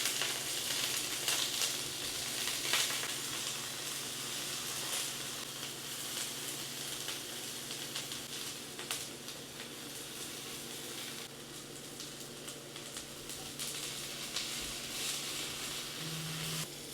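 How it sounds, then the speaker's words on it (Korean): Asparagus and baby corn frying in olive oil in a pan give off a continuous, even sizzle with a soft hiss, close by and with no voices. "곁들일 야채에 아스파라거스랑 베이비 콘이 있어서 더해주려고 올리브오일 두른 팬에 노릇하게 구워서"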